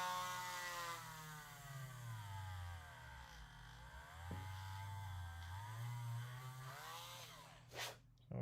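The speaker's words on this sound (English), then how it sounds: "See what happens if I just Dremel in a little bit." A Dremel rotary tool grinds into a part, a high whine that rises and falls as the load changes over a low motor hum, with a brief snap near the end.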